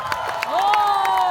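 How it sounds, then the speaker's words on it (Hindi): An audience at an Independence Day celebration at the Arts Council of Pakistan in Karachi applauds and cheers in a dense wash of claps, with a rising tonal sound and voices mixed in. "तालियों में इस्तकबाल करें"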